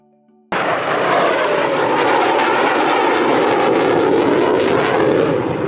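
Grumman F-14 Tomcat jet fighter engine starts with a sudden loud roar after a brief quiet moment, then holds as a steady, powerful broadband rumble and hiss, close and sustained with no talking.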